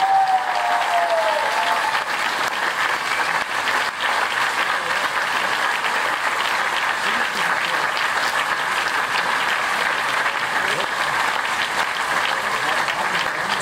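Sustained, steady applause from a large crowd for the SO36 team at a Science Slam in SO36, dense and even throughout with a brief whoop or whistle near the start.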